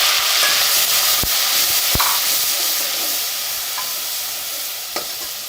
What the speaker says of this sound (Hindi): अब इसमें टमाटर डाल देंगे।